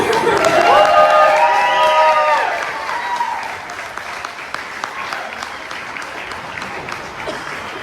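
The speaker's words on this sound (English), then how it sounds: "One more round of applause for all the speakers, ladies and gentlemen." Applause and cheering from a wedding crowd after the speeches, with voices shouting over it, loud at first and then dropping to a quieter, scattered clapping that continues.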